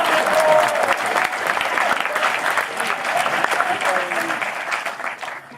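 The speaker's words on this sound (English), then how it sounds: "ladies and gentlemen, applaud while I walk over to my chair." Audience applause at a museum talk event, loud dense clapping from a sizable crowd that holds steady for several seconds before tapering slightly, with some murmuring under it.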